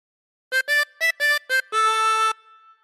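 A 16-hole tremolo harmonica plays a Ten Green Bottles phrase: five short wavering notes followed by one longer held note, close, bright and alone.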